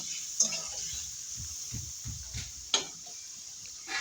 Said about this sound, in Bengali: দেখো হালকাভাবে আমি পনিরগুলিকে একটু ভেজে নেব।